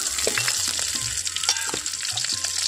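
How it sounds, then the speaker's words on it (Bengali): Green chilies and bay leaf frying in oil over low heat while preparing a Bengali-style potol (pointed gourd) curry, giving a steady close sizzle with occasional stirring clinks and no voices. "খুব ভালো করে ভেজে নিতে হবে, হালকা আঁচেই ভাজবে"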